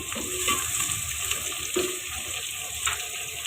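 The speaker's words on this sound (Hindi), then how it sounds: "सबसे पहले ये मैंने गाजर डाली है, थोड़ा सा फ्राई कर लेंगे" Carrots frying in a pan give a soft, steady sizzle close by with a few brief stirring scrapes, alone without talk.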